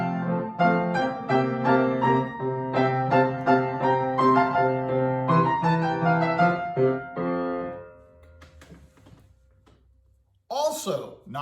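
Excerpt from Giuseppe Sarti's opera Fra i due litiganti, a melodic classical passage with sustained pitched tones that plays for about eight seconds, then fades to near silence before a brief burst at the end.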